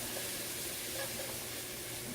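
Chopped onions with a bouillon cube sautéing in a pan, giving a steady, close, even sizzle that holds without pause throughout.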